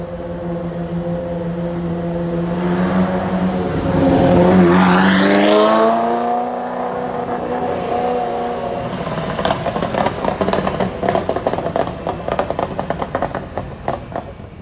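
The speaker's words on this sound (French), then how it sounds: "c'est rétrogradage devant nous et accélération jusqu'au rupteur" A loud supercar engine at Monaco drops a gear with a rising blip, then screams up through the revs to the limiter, followed by crackling exhaust pops.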